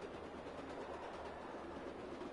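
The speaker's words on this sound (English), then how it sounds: "That must be the train noise." Train noise in the video game LittleBigPlanet 3 makes a faint, steady rolling rumble with a broad hiss, continuous and even throughout.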